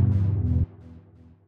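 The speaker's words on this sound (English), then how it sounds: "Just going to use the minor chord, sounds like this." A single minor chord from FL Studio's Riff Machine plays as a short, bright synthesized stab that cuts off after about half a second, leaving a faint decaying tail.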